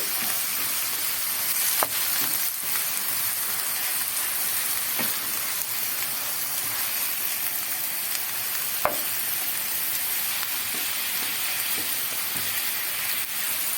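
Onions and meat frying together in a pan, a loud continuous sizzle with sharp spoon knocks and scrapes against the pan at irregular intervals as it is stirred, no voices.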